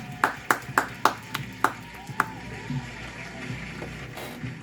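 Group clapping at a Founders Day celebration gathering, about seven sharp, spaced claps in a steady rhythm, then the claps stop and a low murmur of voices continues.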